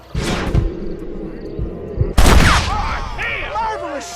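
Gunshots ring out in Red Dead Redemption: a few close, punchy blasts, then one loud crack followed by ricochet-like whines and echoing tails, with faint background ambience.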